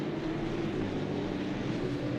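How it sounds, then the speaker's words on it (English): Race cars lapping the Red Bull Ring in a racing video game broadcast give a continuous, steady engine drone at moderate level, a blended distant roar of the field on track with no distinct passes and no voices. "So you can actually hear the cars on track."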